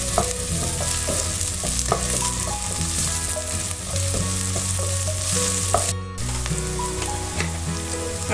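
Onion with ginger-garlic paste sautés in a pan for a soya chunk masala, a steady sizzle and stirring running continuously beneath prominent background music.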